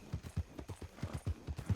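Horse hooves clip-clop in a quick, steady trotting rhythm in the Red Dead Redemption video game, with close, distinct hoofbeats and no speech.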